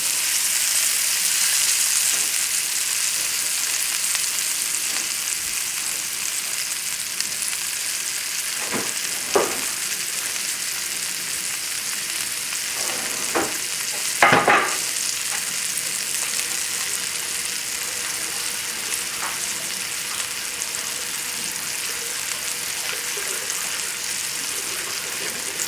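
Chicken cacciatore cooks in a pan with a steady, close sizzling hiss that runs throughout, broken by a few brief clinks and stirring scrapes, with no talking.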